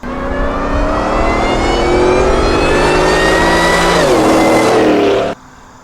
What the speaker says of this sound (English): There's hardly any whine from this Supercharger, and it's a Whipple.